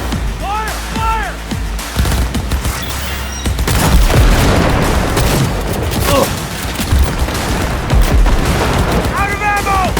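Rapid gunfire and booming blasts crackle through a Cyberpunk 2077 firefight, dense bursts rising in intensity midway, with shouted voices over the shooting.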